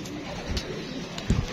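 A teddy pigeon gives a brief low coo near the end, preceded by a faint soft coo, against light background noise.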